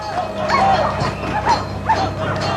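Police dogs bark and yelp at protesters blocking a motorway construction site, several sharp barks in bursts over a noisy outdoor crowd background.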